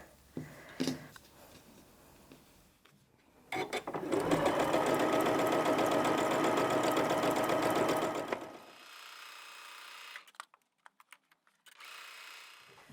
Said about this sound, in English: we're going to take those to the machine and we're going to sew 1/4 inch or a very scant